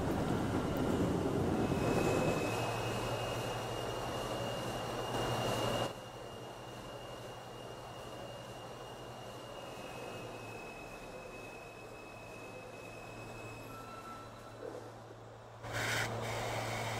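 An R160A subway train running in Trainz Simulator 2012, a steady rumbling rail drone with a low motor hum, shifting in tone partway through, with a brief squeal near the end.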